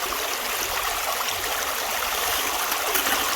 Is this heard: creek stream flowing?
yes